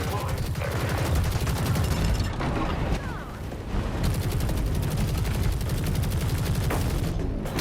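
Robot weapons fire continuously in the mech combat game War Robots Frontiers, rapid bursts of gunfire and booming shots stacked into a loud, dense barrage, with a brief dip in intensity around the middle.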